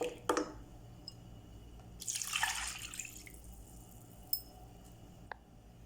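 Milk poured little by little into a pan while making a tomato cheese pasta, heard as a short liquid pour with a few drips and light clinks, faint and close with no talk.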